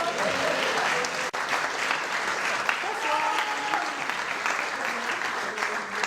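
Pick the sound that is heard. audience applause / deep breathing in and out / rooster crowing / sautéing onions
audience applause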